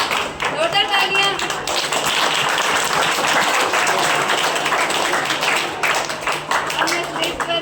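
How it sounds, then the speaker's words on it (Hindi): Applause from an audience at a teacher's day celebration, steady clapping lasting several seconds with a voice speaking over it. "जोरदार तालियां।"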